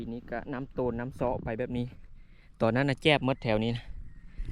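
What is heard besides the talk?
No everyday noises stand out.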